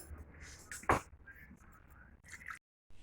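Water splashes briefly into a bowl of flour mixture for bhature dough, one short pour followed by faint drips in an otherwise quiet kitchen.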